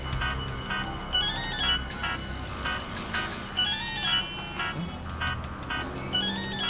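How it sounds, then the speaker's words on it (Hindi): A phone rings with a repeating melodic ringtone, steady and moderately loud over a low background hum. "शायद किडनैपर का फोन होगा"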